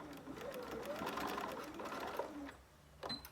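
A sewing machine fitted with a zipper foot runs in a steady, whirring burst while stitching a zipper pouch, then slows and stops near the end with a couple of small clicks.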